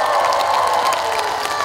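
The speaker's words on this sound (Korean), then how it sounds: "괜찮으셨다면 큰 박수 한번 부탁드리겠습니다." An audience at the 2023 Uiryeong Rich Rich Festival concert gives dense, steady applause for a singer, mixed with crowd cheering.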